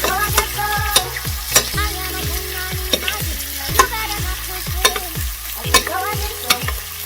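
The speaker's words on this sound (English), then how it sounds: "basting just means grabbing some of the butter and thoroughly putting it on top of the scallops until the scallops are cooked" Scallops searing in a pan of butter while being basted, a steady close sizzle broken by regular spoon scrapes and taps against the pan, fairly loud with no talk.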